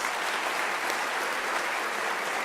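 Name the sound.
audience applauding the graduates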